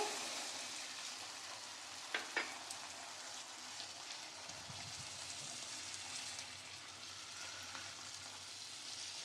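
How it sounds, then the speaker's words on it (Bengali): Green peas and a stuffed potato curry with paneer are sautéed in a pan, with a soft, steady sizzle and a few light scraping stirs nearby. "মটরশুঁটিটা দিয়ে আরও কিছুক্ষণ কষিয়ে নেব।"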